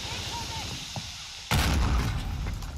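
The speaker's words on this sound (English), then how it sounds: "Put a mortar on the top." A mortar strike explodes in a multiplayer shooter, a sudden loud blast halfway through that leaves a heavy rumbling roar over faint game ambience.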